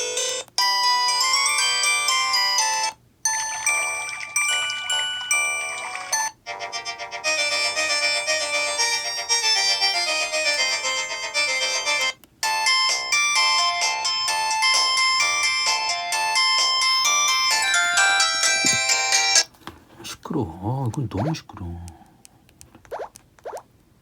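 Polyphonic Bach ringtone melody playing loudly from a 2003 LG Cyon SD1600 flip phone, tinny and continuous with several brief dropouts, ending in a few seconds of quieter sounds.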